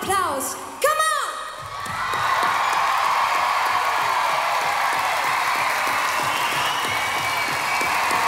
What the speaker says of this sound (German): Das hier ist euer Applaus.